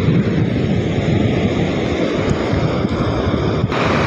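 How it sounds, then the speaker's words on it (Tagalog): Sea waves rolling onto a beach under strong wind, a continuous low rumbling wash with heavy wind noise on the microphone, steady and close, with no voices. "Yan po yung dagat"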